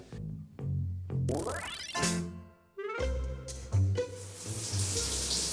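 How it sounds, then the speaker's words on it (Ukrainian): Water runs and drains in a hotel bathroom shower, a steady hiss broken by clunks and squeaky handling noises, close and loud with no talking. "Це останній тест у ванній кімнаті, як працює злив у душі."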